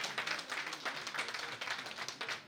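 An audience claps at a birthday celebration for the Ooni of Ife, giving faint, fairly distant applause in quick, uneven pulses with no voices over it.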